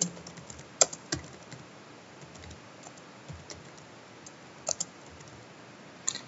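Quiet typing on a computer keyboard at a PC, with scattered soft key taps and a few sharper isolated clicks spread irregularly over several seconds, no voices.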